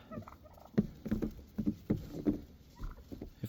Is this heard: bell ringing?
no